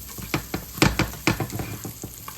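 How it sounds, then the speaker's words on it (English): Food sears in butter in a hot pan, with a steady loud sizzle and a few sharper crackles and spatula scrapes over about two seconds, close and without speech. "And get a nice good sear on them"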